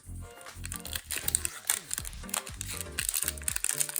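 A Pokémon card booster pack is torn open and its foil wrapper crinkled, giving a busy, close run of crackling and rustling that continues throughout.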